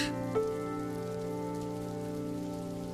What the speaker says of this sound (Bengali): এই বৃষ্টি থামবে না মা। সাধারণ বর্ষার বৃষ্টি না